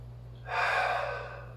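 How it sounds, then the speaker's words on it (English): A single deep, slow breath taken while resting in child's pose during a gentle yoga session, a soft airy exhale swelling and fading close to the listener, with a low steady hum underneath. "We're just gonna take 2 breaths here, Brian."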